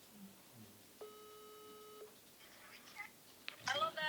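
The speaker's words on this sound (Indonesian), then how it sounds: "saya lagi video call ringing, belum diangkat" Ringing tone of an outgoing video call that has not yet been answered, a single steady two-tone beep lasting about a second, fairly faint, followed by quiet background noise and brief chirpy sounds.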